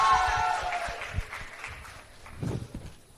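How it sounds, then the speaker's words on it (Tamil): Audience applause for Mohanlal at the Empuraan trailer launch, a loose, moderately distant patter of clapping with crowd murmur that swells again near the end. "இதுல ஒரு பெரிய கைத்தட்டல் கொடுத்துடலாம்."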